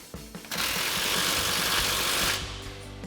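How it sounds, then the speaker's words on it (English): A 15mm socket ratchet tightens hangers and a clamp on a Magnaflow Street Series exhaust for a 2022-2024 Toyota Tundra, giving about two seconds of rapid, close, continuous clicking with a few light taps before it. "Then we're gonna take our 15mm socket and we're gonna tighten this down."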